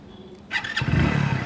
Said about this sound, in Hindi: तो ये इसका इंजन का साउंड है इस तरह का